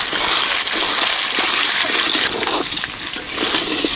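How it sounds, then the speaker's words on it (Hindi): Potato and arbi (taro) pieces frying together in hot oil, a loud continuous hiss and crackle that dips slightly midway then surges again, steady and close with no voices. "हमारा तेल गर्म हो चुका है, इसमें हम लोग आलू और कच्चू को डाल देते हैं दोनों साथ में"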